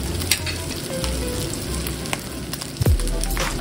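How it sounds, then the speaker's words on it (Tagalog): Ingredients fry and sizzle steadily in a pan, a close crackling hiss with a low background hum and one brief louder clatter near the end. "Talagang na-fry ko na siya ng gusto"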